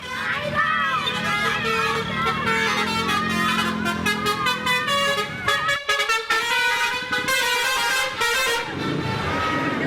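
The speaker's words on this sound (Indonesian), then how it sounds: "Fenomena klakson telolet dari bis akap dan bis pariwisata kembali marak." Loud, musical telolet horns on intercity and tour buses blare in repeated melodic toots, overlapping one another amid a noisy roadside crowd.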